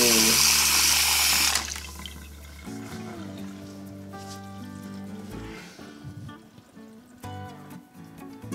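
Water runs from a newly installed bathroom faucet into the sink drain, a loud steady rush at first that drops to a softer flow after a couple of seconds, with music playing underneath.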